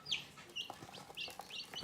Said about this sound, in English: Look, there's 6 little chicks.